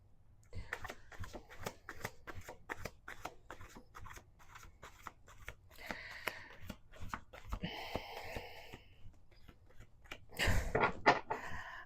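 A deck of tarot cards shuffled by hand in a long run of sharp, rapid card slaps and riffles, close and fairly quiet, ending in a louder flurry.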